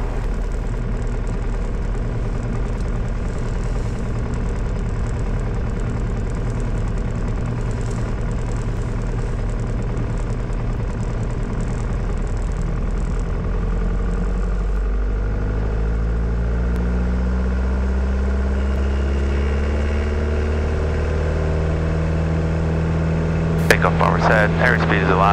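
Single-engine small propeller plane throttling up for its takeoff roll, a loud steady drone whose pitch climbs as it accelerates down the runway, with a brief clatter at the end.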